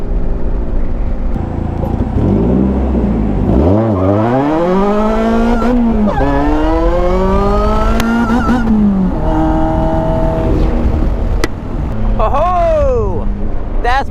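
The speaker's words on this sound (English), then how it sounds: "I still hit the rev limit multiple times" An Ariel Atom accelerates hard from 0 to 60 on an on-ramp, its engine screaming up through the gears with repeated rapid rises in pitch and bouncing off the rev limiter, loud and close from the cockpit.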